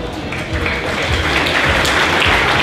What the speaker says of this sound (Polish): Wielkie brawa dla Michała Wojciechowskiego